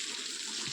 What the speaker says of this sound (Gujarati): આ વરસાદ તો એટલો વરસાદ છે.